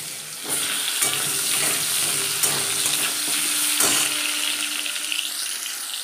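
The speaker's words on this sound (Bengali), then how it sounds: "এখন একটু পটল ভেজে নিলাম" Pointed gourd (potol) frying in a pan, a steady close, loud sizzle with occasional scraping stirs of a spatula, no voices.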